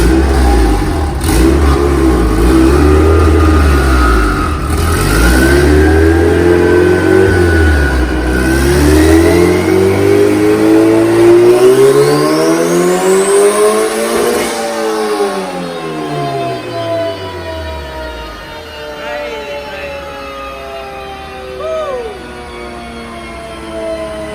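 A turbocharged Honda Civic with a B18C engine revs hard on a dyno, its loud engine note sweeping up and down through several long pulls before settling toward idle, with a turbo whine rising above it.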